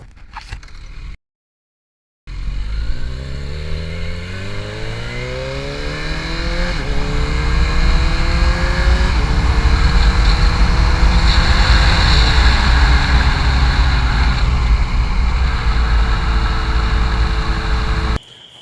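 A Kawasaki Z900 motorcycle with a quick shifter pulls away loudly and climbs through the gears, the engine note rising in steady sweeps and dropping briefly at each fast upshift as it keeps accelerating.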